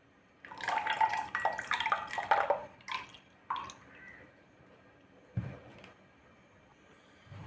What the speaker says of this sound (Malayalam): ഇവിടെ ജ്യൂസ് ഇവിടെ റെഡിയായി നമ്മൾ ഒഴിക്കുകയാണ്.